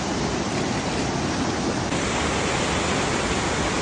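Río Verde at Asunción Atoyaquillo, Putla, running high and powerful after a hurricane, a steady dense broadband rush of water that stays loud and unbroken throughout with no voices.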